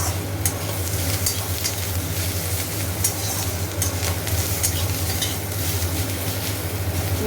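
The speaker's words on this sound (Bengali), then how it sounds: "নিম পাতা দিয়ে দিয়েছি নিমগুলো ভালো করে ভাজা ভাজা হোক" Continuous loud sizzle of neem leaves frying in oil, with occasional stirring scrapes and a steady low hum underneath; no talking.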